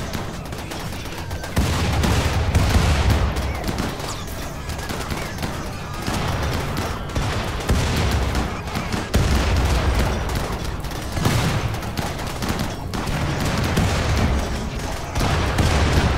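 Sustained gunfire and grenade explosions from a RimWorld battle, with dense continuous rattling shots and repeated heavy booms, loud throughout and with no talk over it.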